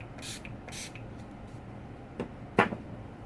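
An oil control setting spray mists over a face in two quick, soft hissing bursts, followed after a pause by a couple of sharp close knocks.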